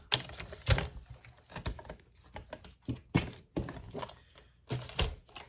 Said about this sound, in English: So I'm going to cut 4 inches off of that.